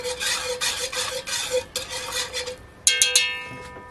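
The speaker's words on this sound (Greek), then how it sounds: "ανακατεύω λιγάκι" Sugar syrup flavoured with vanilla is stirred in a pot with quick, rhythmic scraping swirls, then a few bright metallic clinks from the utensil against the rim, close up and without speech.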